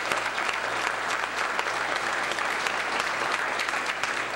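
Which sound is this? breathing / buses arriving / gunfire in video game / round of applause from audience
round of applause from audience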